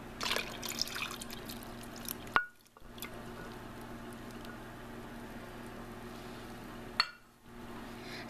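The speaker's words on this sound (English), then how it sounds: "We're going to add in our milk" Whole milk, one cup, poured into a mixing bowl of cake batter ingredients, giving a soft continuous liquid splash with a couple of brief clinks, quiet and close, with no talking.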